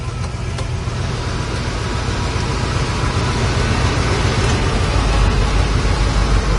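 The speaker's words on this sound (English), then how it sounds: "the compressor's definitely kicking on" A 1969 Chevrolet Camaro's air conditioning compressor kicks on, giving a steady, broadband rushing drone with a low rumble that holds even and continuous throughout, no voices present.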